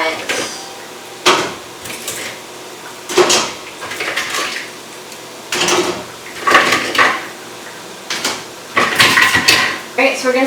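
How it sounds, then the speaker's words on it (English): Live Dungeness crabs dropped into a pot of boiling water, heard as a series of sharp clattering knocks and shell scrapes against metal at close range, coming in bursts with pauses between them. "So let's go ahead and put our crabs into the pot."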